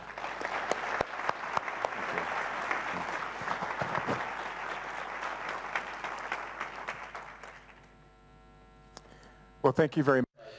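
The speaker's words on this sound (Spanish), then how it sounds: "Un gran aplauso" An audience at a talk on bone marrow and umbilical cord blood donation gives a long, even round of applause that fades away after about eight seconds, followed by a few loud bumps near the microphone.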